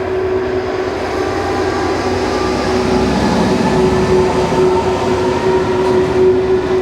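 A train passes along a railway line near an old canal bridge, rumbling loud and continuous with a steady tonal hum and wheel noise that swells toward the middle, and no voices.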